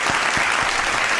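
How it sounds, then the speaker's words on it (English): Audience applause at a stand-up comedy show, steady dense clapping from a crowd filling the whole short stretch, loud and close with no talk over it. "Round of applause"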